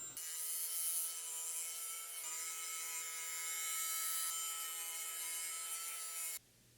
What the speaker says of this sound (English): I'm rounding all the corners and chamfering the edges